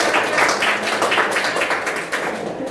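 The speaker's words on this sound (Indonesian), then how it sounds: "Tepuk tangan untuk teman-teman." A primary school class claps for classmates during a lesson, a dense, close burst of many small hands clapping that stays fairly loud throughout and fades slightly at the end.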